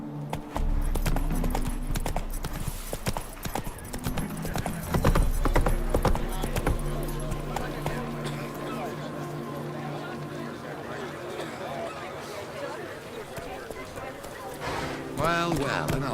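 An armored war horse in The Witcher 3: Wild Hunt clip-clops along with steady rhythmic hoofbeats, joined by a whinny and game ambience while someone talks over it.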